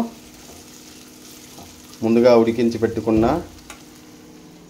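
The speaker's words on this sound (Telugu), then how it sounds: "టమాటా కొంచెం సగం వరకు మెల్ట్ అయ్యేంత వరకు వేయించుకోవాలి" Mutton and tomatoes fry in a spiced tempering while being stirred, giving a soft, steady sizzle throughout, briefly covered by a voice speaking in the middle.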